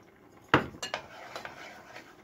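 A metal pot lid handled on a pan, one sharp clank followed by a few lighter clinks and taps, close and otherwise quiet.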